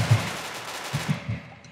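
Rapid gunfire in the Arsenal video game, a quick string of close, punchy shots in an uneven rhythm with no talk over it.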